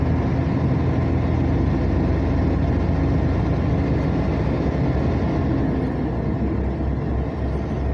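A truck on the BR 040 highway in Brazil drones with a steady, loud engine and road roar from inside a vehicle nearby, holding constant for the whole stretch with no talking.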